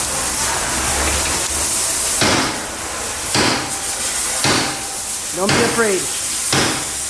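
Several heavy metallic hammer blows on the rear suspension of a Nissan Skyline R32 during HICAS removal ring out at irregular intervals over a hissing background, with a brief voice speaking between strikes.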